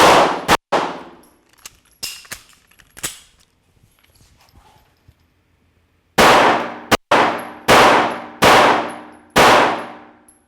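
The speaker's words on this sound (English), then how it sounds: "rapid firing a 5-round group into a few inches is easily doable" Flux Raider SBR rifle firing: a few scattered shots first, then five loud, evenly spaced rapid-fire shots close by, each with a sharp crack and brief ringing decay.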